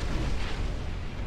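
Naval gunfire from a cruiser in the warship game Ultimate Admiral Dreadnoughts, a dense rumbling boom of cannon fire filling the whole short burst, heavy and loud with no pause.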